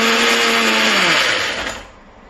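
Kitchen blender whirring loud and close as it blends a coriander chutney with tomato pieces, the motor pitch sliding downward before it winds off at the end.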